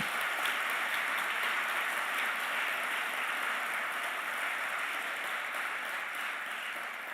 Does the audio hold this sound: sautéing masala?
no